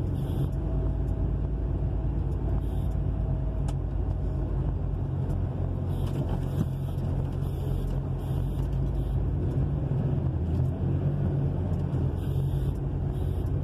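Trucks maneuver in a client's yard in Rio de Janeiro, producing a continuous heavy low engine rumble with traffic-like noise, close and loud throughout without pause.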